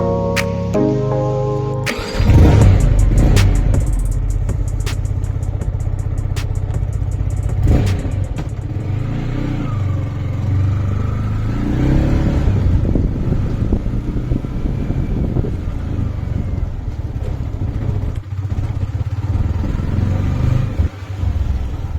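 A Yamaha MT-15 motorcycle starts and rides off, recorded from a rider's chest mount: an engine rumble and rev rise after a brief start, then a steady, loud, close drone with wind buffeting and clatter throughout, no talk.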